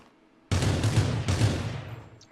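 Gunfire in the Rules of Survival game during a championship final, with a sudden loud burst of rapid shots that cuts in after a quiet moment and holds before fading, and no voices over it.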